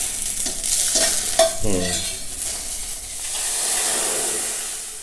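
Okra sautéing in a hot pan, loud continuous sizzling and hissing with a few close scrapes and stirs of a spoon early on, then a steady frying roar, with no talking.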